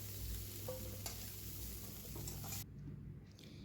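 Cauliflower and potatoes sizzle in a frying pan with salt and turmeric, a steady crackling fry broken by a few clinks and scrapes of stirring, then the sizzle softens near the end.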